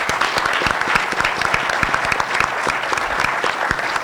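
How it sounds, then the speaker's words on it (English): A live audience applauds the organizers at a public panel event on polls, dense and sustained clapping filling the room at full volume without a pause. "let's give a round of applause to the West Central Initiative Foundation and to the League of Women Voters for planning this event"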